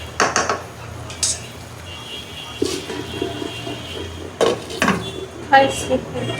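A lid goes onto a cooking pot of pointed gourd being fried: several sharp metallic clanks and clatters, scattered among quieter kitchen handling.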